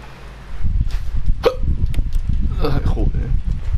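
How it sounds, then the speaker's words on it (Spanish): A person hiccups sharply about twice amid a steady noisy background, with talking mixed in while playing the Resident Evil 1 Remake HD game. "El hipo."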